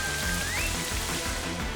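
Steady rain pours as the effect of the Rain Dance move in the video game Pokémon Violet, a dense constant hiss over low game music with a brief rising tone.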